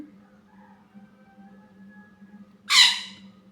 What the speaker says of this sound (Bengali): আর মুরগির চিৎকার চেঁচামেচি